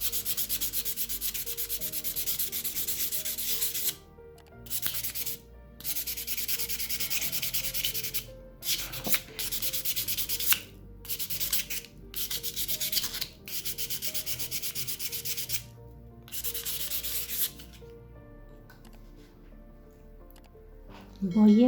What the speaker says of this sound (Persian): روی اون رو آروم میکشم تا اون خط و خش هایی که سنباده زبر روی کارمون انداخته از بین بره